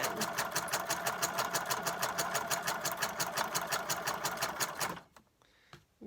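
A sewing machine runs a zigzag stitch over ribbon on scrap strips, a steady fast mechanical rattle for about five seconds before stopping abruptly, followed by a few faint handling clicks.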